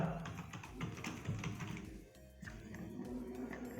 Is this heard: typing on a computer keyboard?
yes